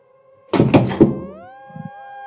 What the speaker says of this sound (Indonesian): Daun jendela terbanting begitu saja.